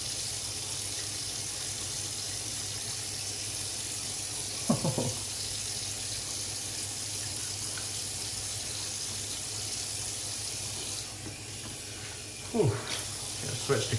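Water runs steadily from a tap into a sink during a wet shave, a constant loud hiss throughout with a couple of brief knocks and splashes over it.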